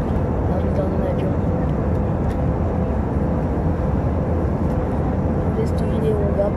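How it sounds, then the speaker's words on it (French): Steady broadband roar of an airplane cabin during a flight to London, a constant engine and air rumble filling the whole stretch with no breaks. "Là, on est dans un avion."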